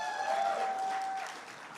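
Steady applause from an audience, continuous and even throughout, with a thin sustained tone running beneath it for the first part.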